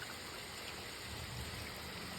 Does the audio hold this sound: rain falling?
yes